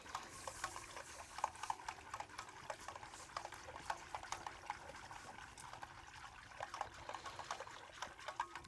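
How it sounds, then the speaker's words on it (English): Cocoa is whisked into warming liquid for hot chocolate, a faint, quick rhythmic whisk ticking against the pot with soft liquid swishes, quiet and steady throughout. "you pretty much whisk this up until it's warm"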